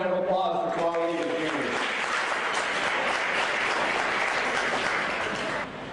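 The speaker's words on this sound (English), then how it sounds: "Let's go and give them all a round of applause for tomorrow evening." Sustained audience applause at a youth leadership event in San Jose, dense and steady crowd clapping that follows a brief tail of speech at the start and fades slightly at the end.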